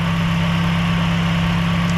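A first-generation Toyota Vios engine idles steadily with a dropping idle despite a replaced throttle body, a continuous low hum and drone close by with no talk.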